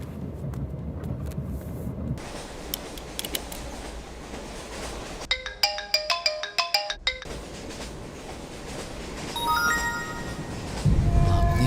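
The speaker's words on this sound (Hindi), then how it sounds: "पापा का फोन आ रहा है" An electronic phone ringtone plays a quick melodic pattern of bright tones over rumbling background noise, with more tones faintly later.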